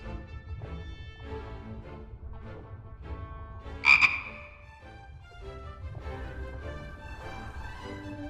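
A single loud frog croak bursts out midway in the fantasy adventure game The Book of Unwritten Tales 2, standing above a soft, steady musical background.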